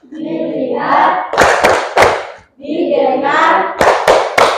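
A classroom of students does a rhythmic focus clap, group voices chanting in unison between two short bursts of three sharp, close hand claps each.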